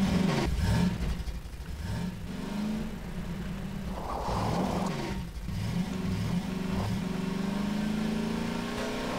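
A car engine in the Gmod game revving up and down repeatedly, with rising and falling pitch sweeps over a steady background rumble, moderately loud throughout.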